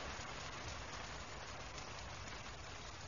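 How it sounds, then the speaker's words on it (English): Steady, dense pouring rain falls outside a house in a radio drama, a constant loud wash of drops hitting surfaces with no breaks and no voices. "We can't stand out here in the pouring rain."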